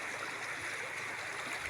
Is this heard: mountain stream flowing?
yes